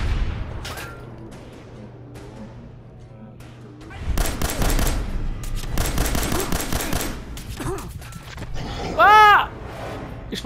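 Enemy gunfire in the video game Fallout 4 comes as rapid bursts of shots in two clusters, loud and close, with a brief ringing sound near the end.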